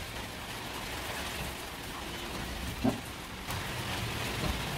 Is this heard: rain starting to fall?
yes